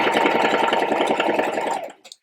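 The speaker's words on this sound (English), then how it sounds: "I'm just going to start to sew along that top edge." A sewing machine stitching along the top edge of a skirt, a rapid close mechanical whirr running steadily for about two seconds before stopping abruptly, followed by a couple of faint clicks.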